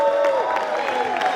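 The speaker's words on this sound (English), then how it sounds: "Giving a huge round of applause for our president of Adro USA and chief designer" An audience at a car bumper launch event applauds in a continuous, fairly loud clatter of many hands, with cheering and overlapping voices carrying above the clapping.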